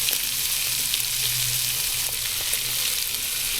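Bacon frying in a pot with leeks and yellow onion, a dense, even sizzle that hisses steadily throughout, close and moderately loud with no talk.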